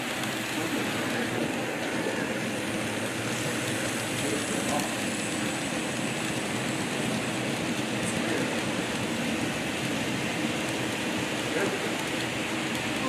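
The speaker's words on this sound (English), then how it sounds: "the reefer train is going to come by the new housing construction in the city area" A continuous low rumble and rattle of an N scale model reefer train rolling along layout track, steady and close, with faint clicking from the rails and no talking.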